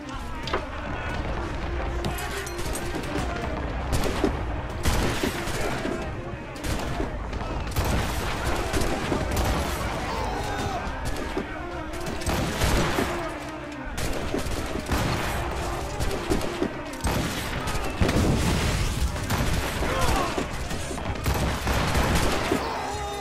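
Ship cannons firing in Assassin's Creed Rogue during a naval battle, a dense, continuous barrage of booms and crackling blasts that runs loud and unbroken throughout.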